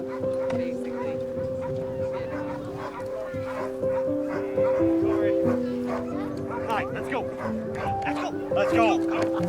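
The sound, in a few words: sled dogs barking and yipping at winter parade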